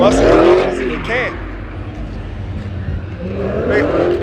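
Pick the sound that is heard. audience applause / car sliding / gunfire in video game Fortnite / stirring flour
car sliding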